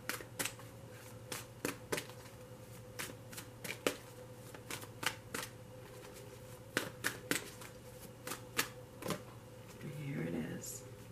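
A deck of tarot cards is shuffled in a run of soft, crisp riffles and taps, quiet and close, during a tarot reading.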